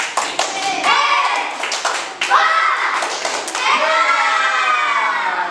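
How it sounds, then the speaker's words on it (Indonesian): A class of primary school children claps a patterned 'tepuk hebat' chant together, rhythmic hand claps mixed with their voices calling out, loud and close in a classroom. "kasih tepuk hebat buat kelompok 1"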